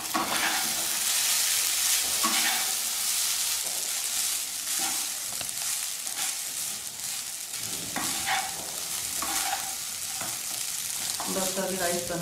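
South Indian lemon rice sizzles steadily in a pan while a spoon stirs it, giving a close, continuous frying hiss with intermittent scraping and tapping strokes and no talking.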